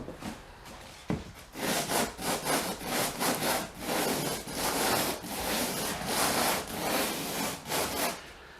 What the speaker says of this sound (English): Now he's gonna demonstrate the hand sander.